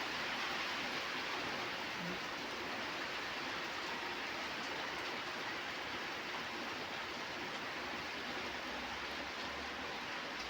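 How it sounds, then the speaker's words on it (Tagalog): Rain falls steadily outside a window, a soft, even hiss that continues unchanged and fairly quiet for the whole stretch. "Pakita ko sa inyo yung ulan."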